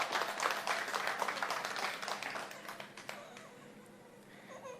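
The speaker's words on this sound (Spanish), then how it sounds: "Denle un aplauso al Señor." Church congregation applauding during a Spanish-language sermon, a fairly faint burst of clapping that fades out after about three seconds, leaving quiet room tone.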